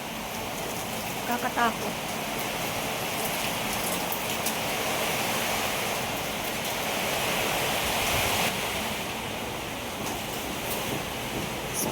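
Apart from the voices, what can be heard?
sudden heavy rain pouring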